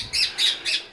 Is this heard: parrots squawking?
yes